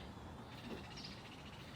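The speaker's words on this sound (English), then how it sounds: "I got all kind of nice birds around here." Birds call faintly in a garden after rain, a few short caws or chirps rising over a steady, noisy outdoor background with no voices.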